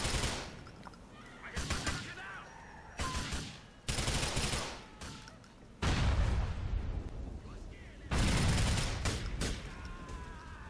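Gunfire in GTA 4 during the Truck Hustle mission comes as loud bursts of automatic fire in several separated volleys, with sharp reports and echoing tails between brief pauses.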